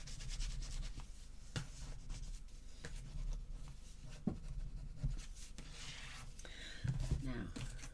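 A bone folder rubs and scrapes across paper on a Stamperia Grand Hotel album, soft repeated strokes with occasional taps, close and quiet, with faint speech mixed in.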